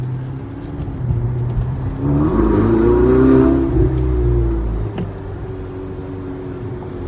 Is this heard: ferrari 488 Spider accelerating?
yes